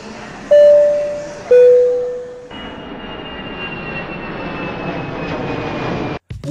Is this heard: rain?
no